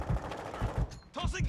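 Rapid automatic gunfire in Call of Duty Modern Warfare II on the Museum map, punchy close bursts of shots in a quick rhythm, with a short pause before another volley and faint voices mixed in.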